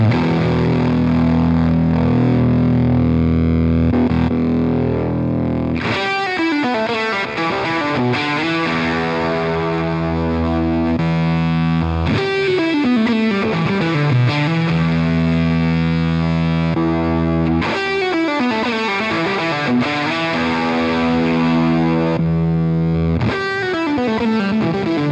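Electric guitar through a Walrus Audio EONS fuzz pedal running at its lowest voltage, playing sustained chords and single-note phrases with a gated, sputtering fuzz tone, loud and close, in several passages separated by brief breaks.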